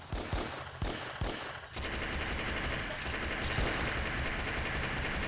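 Shooting in a video game, with several sharp gunshots at first and then a dense, continuous spray of automatic fire. The fire runs loud and unbroken to the end.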